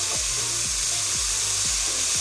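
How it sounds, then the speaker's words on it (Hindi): Ginger garlic paste and green chillies fry in a hot pan for aloo qeema, giving a loud, steady sizzle close up, broken by a few soft rhythmic scraping strokes of a spoon through the masala. "1 मिनट के लिए मसाले को भून लेते हैं"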